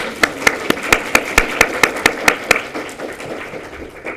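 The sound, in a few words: audience applause for teachers, mentors and parents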